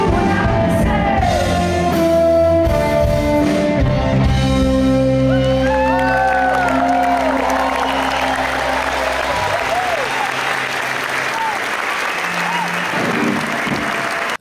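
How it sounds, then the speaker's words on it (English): A large concert crowd in Köln applauds and cheers loudly and continuously, with shouts and whoops over lingering music tones and voices. "Crowd was super, super enthusiastic."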